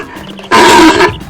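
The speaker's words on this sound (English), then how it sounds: "Princess Lily heard a loud roar" A large, terrifying monster in a children's animated story gives one loud, rough roar lasting about half a second. It stands alone, with no talk over it.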